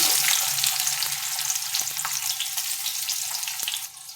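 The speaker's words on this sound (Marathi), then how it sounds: "तेल घातलंय जिरं त्या घालून याच्यामध्ये खूप सारा कांदा छान" A large batch of onion frying in hot oil with cumin, giving a loud, dense, continuous sizzle close up, with a few faint stirring taps before it eases off at the end.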